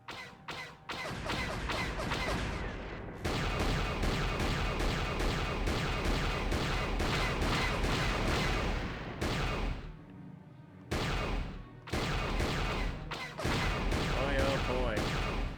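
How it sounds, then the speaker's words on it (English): Loud, continuous turret gunfire in the Star Wars: KotOR video game during a starfighter escape from Taris, dense rapid blasts running almost nonstop with a brief lull near the end. "These turrets sound loud as hell."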